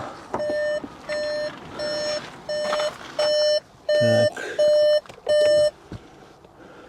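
A 2019 Skoda Superb 2.0 diesel sounds a repeating electronic warning chime, eight evenly spaced tonal beeps growing slightly louder, with a brief spoken word near the start.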